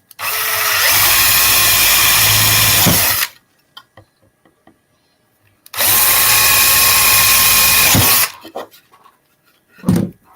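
Power drill boring a 3/8 inch hole in a wooden block for reed switches, two loud sustained bursts of about three seconds each, with a pause between them filled with small clicks and knocks, close up.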